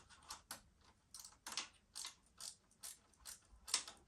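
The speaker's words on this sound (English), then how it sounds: "maybe I'll use my new wrench." A ratchet wrench clicks in quick, regular bursts, close and fairly faint, about two clicks per second over several strokes, during work on a motorcycle.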